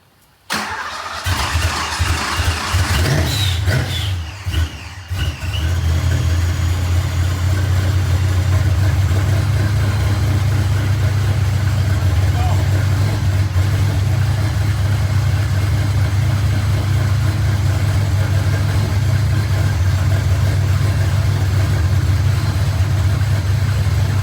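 Car engine being tuned for timing and air-fuel ratio, starting with a cranking stutter and catching, then settling into a loud, steady rumbling idle that holds close and constant for the rest of the stretch.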